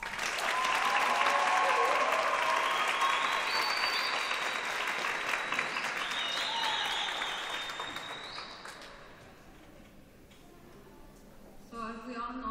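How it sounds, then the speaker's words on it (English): A graduation audience at the Latino Youth High School ceremony applauds its teachers and staff with loud, sustained clapping that swells early, gradually thins out, and fades to a few scattered claps near the end. "So let's give our teachers and staff members a round of applause."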